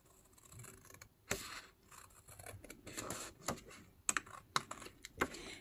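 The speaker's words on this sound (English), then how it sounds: "So cut the pattern here." Scissors snipping through a paper pattern for a stacked-envelope journal cover, a series of sharp, close cuts with short pauses between them, fairly quiet against a still room.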